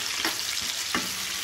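Fish pieces and prawns frying in hot oil, a close, continuous sizzle with a couple of sharp crackles and stirring bursts.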